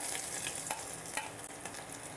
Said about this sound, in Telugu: ఇప్పుడు మిరియాలు వేగుతున్నాయి కదా, అల్లం ముక్కలు చిన్నగా కట్ చేశాను, అవి వేసేసుకుందాం